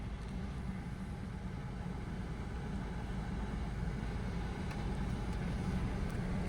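Car engine droning at low revs while backing up slowly during a U-turn, a steady rumble from inside the vehicle with no voices.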